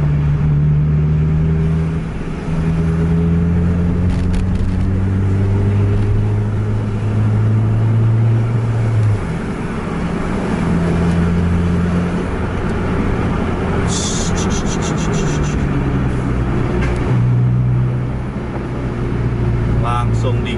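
An Aerobus bus accelerating hard on an intercity road: a loud engine drone whose pitch climbs through repeated gear shifts, with wind and road noise and people talking over it.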